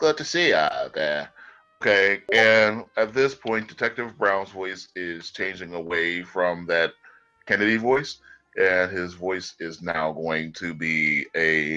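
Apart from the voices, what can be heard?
None of the usual background noises is heard.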